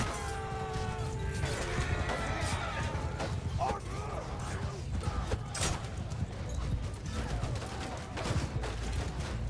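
Horses' hooves clatter over a noisy Mount & Blade II: Bannerlord battle, mixed with clashing, shouts and the chaotic din of combat; someone talks throughout.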